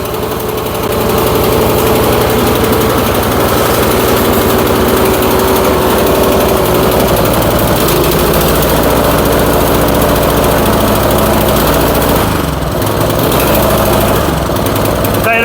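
Snowblower engine running roughly, a loud continuous small-engine drone with uneven knocking and vibration throughout, steady without pauses.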